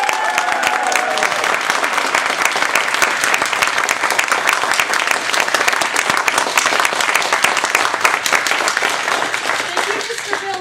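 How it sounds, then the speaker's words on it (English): Audience at a district speech evaluation contest breaks into sustained, loud applause, dense clapping filling the room evenly from start to end, with a few voices and cheers mixed in. "Please give a warm round of applause to our contest master, Elta Marquez!"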